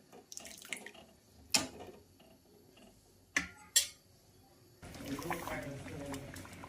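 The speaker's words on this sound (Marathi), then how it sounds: "इथं बघू शकता तुम्ही वरणाला छान अशी उकळी आलेली आहे" Mung dal boiling in a pot of water for a children's dal dish: a few sharp clinks and tapping sounds come first, then a steady bubbling, hissing rumble of the boil fills the last couple of seconds.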